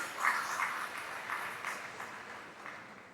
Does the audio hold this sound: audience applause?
yes